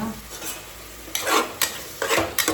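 A spatula stirs frying onions with turmeric, coriander and chili powder in a pan, giving a few close scraping strokes over a faint, steady sizzle.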